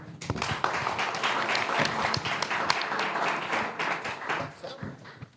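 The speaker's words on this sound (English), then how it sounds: "Applause." Audience clapping at an investor panel pitch event, a lively burst of applause from a modest crowd with distinct individual claps, building quickly and tapering slightly near the end.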